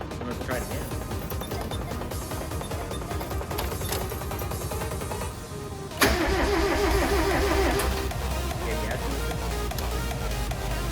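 A vehicle engine is cranked and catches, then idles high with a steady, loud mid-range drone close by; people talk over it.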